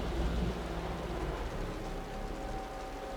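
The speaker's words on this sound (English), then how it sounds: "The rain's getting heavier." Steady heavy rain in the game Wuthering Waves hisses continuously, with a low rumble underneath, fairly quiet and even throughout.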